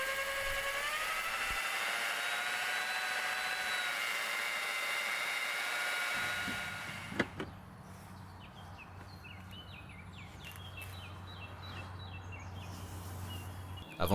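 Small polisher fitted with an undersized pad works over the leather of an Aston Martin DB7 seat with a thin whirring motor tone that cuts out partway, leaving a low hum and faint background noise.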